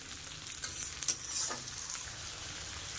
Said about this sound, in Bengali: পেঁয়াজটা একটু ভাজা হলে কুচিয়ে রাখা টমেটো দিয়ে দেব